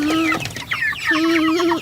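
Chickens cluck and squawk nearby, several overlapping calls in quick bursts with no talking.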